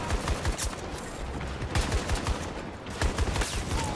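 Rapid gunfire in Battlefield 2042, a steady run of sharp shots mixed with busy game sounds, close and loud throughout with no talking.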